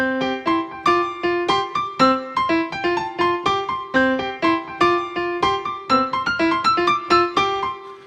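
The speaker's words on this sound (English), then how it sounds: "it has this part at the end where it drops off and it's just piano and it's very syncopated" Syncopated solo piano closing passage from a video game dating minigame song, played back from a phone: bright offbeat chords and single notes in a steady bouncing rhythm, clear and alone with no talking.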